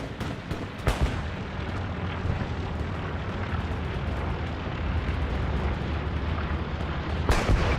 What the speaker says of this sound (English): Bombing run called into 5th, and the garrison is just up north.